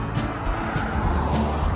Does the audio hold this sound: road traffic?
yes